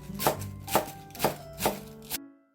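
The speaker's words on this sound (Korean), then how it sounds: "이렇게 채를 다 썰고 나면 절반 이상 끝난 거예요" Knife chopping vegetables into thin julienne strips for Korean-style spring rolls, five steady, evenly spaced thuds on a cutting board, close and clear with no talk, ending abruptly.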